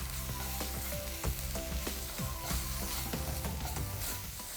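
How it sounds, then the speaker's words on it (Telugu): Egg curry masala with ginger garlic paste being stirred in a hot pan, a loud continuous sizzle broken by repeated rhythmic scraping strokes of a spoon, with no talking. "మంచిగా కలుపుకుందాం."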